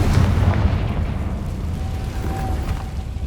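Confringo fire spell blast in Hogwarts Legacy, a loud booming explosion with a heavy low rumble that decays slowly over three seconds under a faint thin whine.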